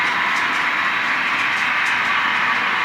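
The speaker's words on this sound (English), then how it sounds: "So the CB&Q freight train is led by a U-25B, and then there's 2 GP-20s" A CB&Q freight train led by a U-25B locomotive with GP-20 and GP-30 units rolls through Des Moines, Iowa, a loud, steady rushing roar of engines and wheels with no pauses.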